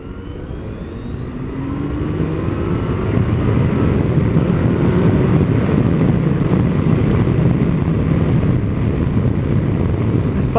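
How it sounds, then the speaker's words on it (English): Yamaha Tracer 900 GT, a 2019 motorcycle, building speed under acceleration: a rising engine drone swells over the first two seconds, then holds steady and loud beneath heavy wind rush for the rest of the run. "This bike gets up to speed so quick."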